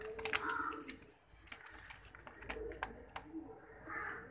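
Ferozpuri breeder pigeons, a pair kept for breeding, coo and rustle close by in a series of soft repeated calls, mixed with scattered clicks and light tapping, with no talk over them.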